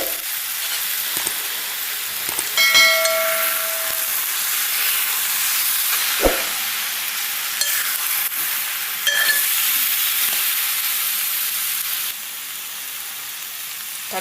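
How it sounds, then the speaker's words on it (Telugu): Soaked chana dal sizzling and hissing steadily in a hot pan, with scraping stirs and a few sharp clinks of the spoon against the pan, close up and with no talk. "నానబెట్టుకొని ఉంచిన శనగపప్పును వేస్తున్నానండి."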